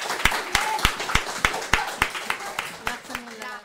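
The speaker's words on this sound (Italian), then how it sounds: "facciamo un bel applauso anche per lui" Applause for a child during a radio interview with a school class, a string of sharp, evenly spaced claps repeating about three times per second, fairly close and loud, continuing alone without talk.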